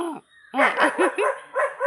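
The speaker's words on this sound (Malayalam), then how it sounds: "പട്ടി വീണ്ടും കിടന്ന് ഒച്ചയെടുത്ത് ബഹളം ഉണ്ടാക്കുവാണ്" A dog barks repeatedly, about six quick sharp barks in close succession, loud and near.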